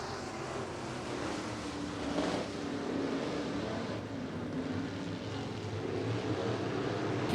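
Topless modified race cars racing at Grays Harbor Raceway during a heat race, a continuous loud, dense engine roar from several cars, steady and unbroken throughout.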